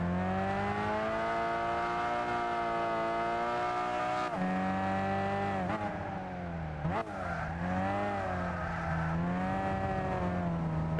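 Race car engine in Gran Turismo 6 holds a loud, continuous high-revving drone, its pitch dropping and climbing through shifts and braking, with possible tire squeal blended in; no voices.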